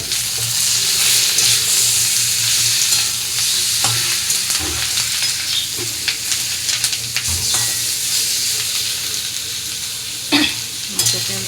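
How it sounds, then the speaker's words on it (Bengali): Fried onions sizzle in a pan with added fish oil as a spatula stirs them, producing a steady loud hiss broken by scraping and clinking strokes against the pan. "মাছের তেলটা দিয়ে নাড়াচাড়া করব"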